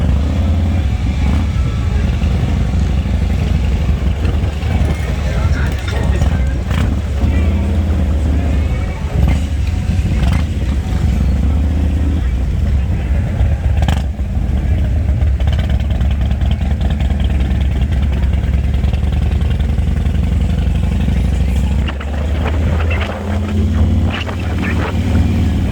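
Motorcycles rumble along Main Street during Daytona Bike Week 2021, a continuous loud low engine drone with passing revs and throttle blips, crowd chatter mixed beneath.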